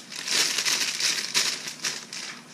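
Loud thin plastic bags are crinkled and crushed in hand, a dense, bright, rustling crackle with repeated bursts over a couple of seconds, close and fairly loud, no talking.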